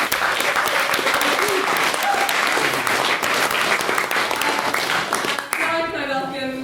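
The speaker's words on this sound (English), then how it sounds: "we get another clap for Andrew as he is the main speaker" An audience at a debate on cancer treatment funding applauds the main speaker, a dense burst of clapping that stops abruptly near the end, when a voice begins.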